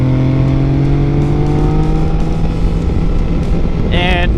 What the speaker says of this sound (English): we've got the cross-plane inline 3 engine